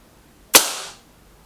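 A single loud, close gunshot from a Remington Vought rifle test fires, a sharp crack followed by a brief fading echo tail, alone with no other sounds.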